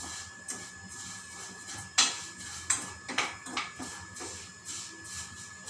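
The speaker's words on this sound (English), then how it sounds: "I've increased the flame, and I'm frying it." Light clinks and scrapes of a utensil in a pan of frying vermicelli over a steady background hiss, with a few sharp metallic taps in the middle.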